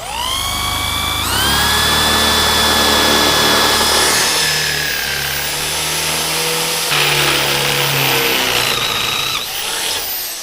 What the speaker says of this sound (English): then we can drill our bolts from the side.